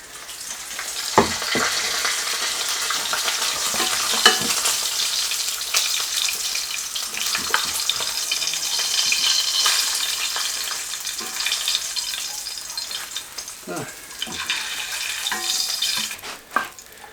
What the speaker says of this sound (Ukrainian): Карасики посмажились дуже добре, такі будуть хрустящі.